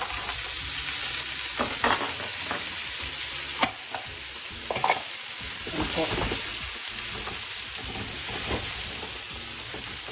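Frozen green peas fry with onions in a pan for a green pea pilaf, producing a steady sizzle punctuated by scraping stirs and occasional utensil knocks, close and moderately loud.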